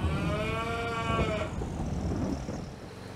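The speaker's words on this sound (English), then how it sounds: "We'll just drop off our second load of milk cows." Milk cows moo in a farming video game, one long, loud, drawn-out low call that fades after about a second and a half, leaving a busy rumbling farm-machine ambience with no talk.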